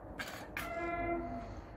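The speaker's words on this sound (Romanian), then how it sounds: "Ia, vine și trenul. Te-ai văzut că vine tren." A train passes with its horn sounding a long, clear, sustained blast that starts after a couple of brief bursts of noise, heard from fairly close over a constant rumble and no talk.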